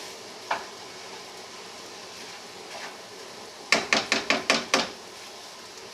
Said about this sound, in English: We need to get some heat into the cream cheese for it to mix up more evenly.